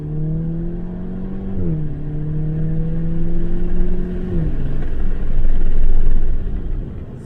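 Audi S3 with the EA888 engine accelerating hard, engine drone rising and dropping through upshifts with loud exhaust pops, heard from inside the cabin along with wind noise.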